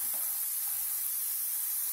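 Ingredients being lightly sautéed in a pan on a gas stove for chicken kola urundai give a soft, steady sizzle and hiss, faint and continuous with no voices over it.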